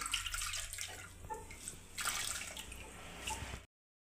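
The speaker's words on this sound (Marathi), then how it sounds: "तर आता हा कोंडा आपण या पाण्यामधून मोकळा करून घेऊ असं." Water sloshing and splashing as millet bran is rinsed and loosened by hand in a vessel of water, a steady close wet churning that stops abruptly near the end.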